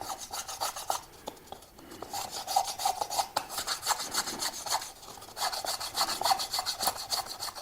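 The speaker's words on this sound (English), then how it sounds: "I'm going to take a block plane here" Block plane rounding the corners of a cedar dice cup, a series of close rasping wood strokes in an uneven rhythm with short pauses between passes.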